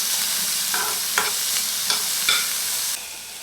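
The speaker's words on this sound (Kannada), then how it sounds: "ಒಂದು ಸ್ಪೂನ್ ಎಣ್ಣೆ ಹಾಕ್ಬಿಟ್ಟು ಈರುಳ್ಳಿ, ಬೆಳ್ಳುಳ್ಳಿ ಮತ್ತು ಸ್ವಲ್ಪ ಸಣ್ಣದಾಗಿ ಹಚ್ಚಿರೋ ಮೆಣಸಿನ್ಕಾಯಿ ಇದೆಲ್ಲ ಹುರ್ಕೊಳ್ತೀನಿ" Onion, garlic and chopped green chili frying in a spoonful of oil, a bright close sizzle with several sharp spatula scrapes and stirs, no talking.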